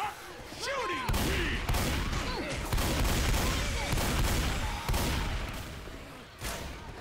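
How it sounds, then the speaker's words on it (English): Rapid bursts of gunfire from the zombie game Left 4 Dead 2, loud and nearly continuous with sharp cracks and short pauses, while players' voices talk over the shooting. "Stop shooting me!"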